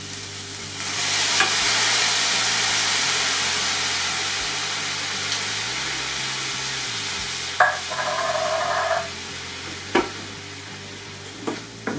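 White wine sizzles hard in a hot pan while being stirred for a porchetta stuffing, a steady broadband hiss with occasional clicks and scrapes of the spoon.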